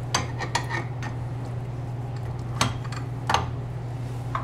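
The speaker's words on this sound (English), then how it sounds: "now we will fit this with the whisk attachment" A whisk attachment being fitted onto a stand mixer for buttercream, with a few sharp metallic clicks and clinks over a steady low mains hum, no talking.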